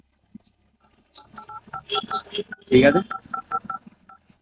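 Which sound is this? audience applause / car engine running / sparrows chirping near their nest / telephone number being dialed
telephone number being dialed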